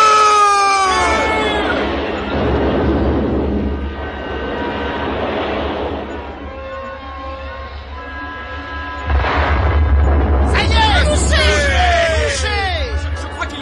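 Cannon and torpedo fire sinking a cargo ship in a French radio drama, heard as loud booming blasts and rumbling crashes with whistling, swooping effects throughout, swelling again near the end.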